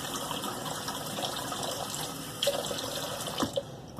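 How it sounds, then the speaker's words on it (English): Tap water runs steadily into a sink while a Merkur Futur safety razor is rinsed, a soft even splash with a few brief knocks and clinks near the end. "let me rinse that and I'll be back"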